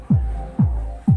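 A homemade super bass speaker in bass-only mode pumps deep, thudding pulses, three evenly spaced booming beats about half a second apart over a low constant hum, loud and close.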